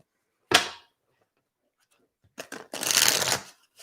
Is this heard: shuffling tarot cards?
yes